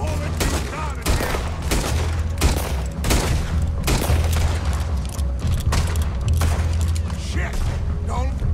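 Gunfire in Red Dead Redemption 2 erupts as rapid, loud, close volleys of shots, crackling continuously with booming impacts. Voices talk over the constant shooting.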